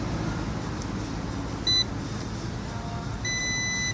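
Two short, thin electronic beeps from a multimeter in diode-test mode over a steady low rumble, the second one longer, fairly faint.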